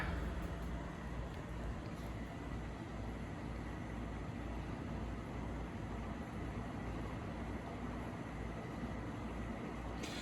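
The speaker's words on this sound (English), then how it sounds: "Takes quite a while to get up to this high speed. It's a pretty low torque motor." A 36-inch View Fan 3 metal-blade ceiling fan with a low-torque motor winding up toward high speed, giving a steady broadband whooshing rush of moving air that holds fairly even and close throughout.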